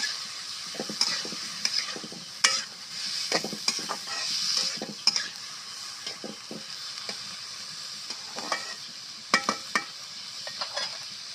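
Cauliflower and radish fry in a little oil, a soft, close sizzle broken by frequent stirring scrapes and clinks of a utensil against the pan, uneven in rhythm, with no speech.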